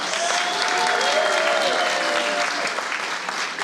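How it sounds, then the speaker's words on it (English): Guests at the 2023 California Ethnic Media Awards ceremony applaud in a sustained, dense wash of clapping from a large crowd that fades slightly toward the end, with faint voices mixed in. "Let's give them a huge round of applause."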